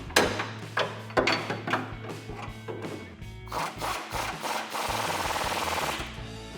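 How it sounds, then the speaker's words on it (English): A 21 mm wrench and socket tighten a bolt on a 2012-2018 RAM 1500 suspension during a lift-kit install, giving a series of close, sharp metallic ratchet clicks and clanks in bursts, followed by denser rattling. "now using our specialized 21 millimeter wrench and our 21 millimeter socket"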